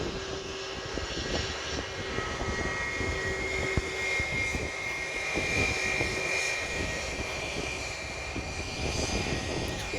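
A QantasLink Boeing 717 airliner touching down on the runway at Sydney, a steady loud engine roar with a whine persisting throughout, heard from a distance with no voices.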